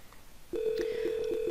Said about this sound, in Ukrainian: У програмному телефоні ми бачимо номер абонента, приймаємо дзвінок.